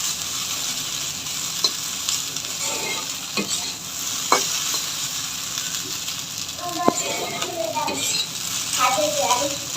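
A potato and semolina mixture stirred in a hot pan until reddish, a continuous sizzling hiss with scattered scrapes and spatula knocks against the pan, close by and without talk.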